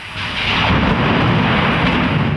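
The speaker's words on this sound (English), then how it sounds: "we have an incredible lightning storm happening" Deep, loud rolling thunder from a lightning storm, a sustained broad rumble lasting a couple of seconds with no voices.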